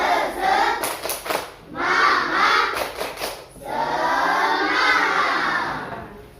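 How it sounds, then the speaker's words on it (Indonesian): A primary school class of fifth graders chants and claps the 'tepuk semangat' spirit cheer in bursts of loud, energetic children's voices with rhythmic clapping, pausing briefly between phrases before a longer sustained shout. "Tepuk semangat."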